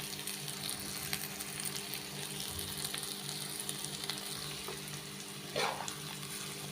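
Chopped onions fry in a pan with a continuous crackling sizzle, a low steady hum beneath and a brief louder scrape near the end as they are stirred, close up with no talking.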